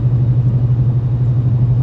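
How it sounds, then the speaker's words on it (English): Whipple-supercharged Dodge Challenger 392 V8 with stock mufflers, its throaty exhaust rumbling steadily and loud up close, a deep continuous drone with no voices over it. "It's got a really powerful, throaty tone that just screams 392."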